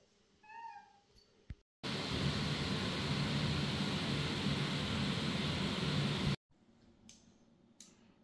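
A house cat gives a short rising meow near the start. It is then swamped by a long burst of loud broadband hiss, and faint indoor noise follows.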